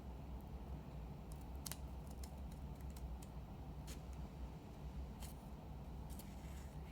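Scissors snip paper for an op art spinner in a run of sharp, close cuts of varying rhythm, some in quick pairs, over a low steady background rumble.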